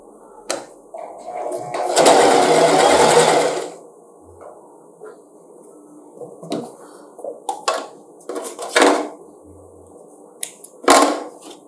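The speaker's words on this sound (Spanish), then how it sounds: "Y voy a coser al ancho del pie." A sewing machine stitches a dress seam in one loud, close burst of rapid mechanical whirring lasting about two seconds, followed by scattered clicks, taps and fabric handling.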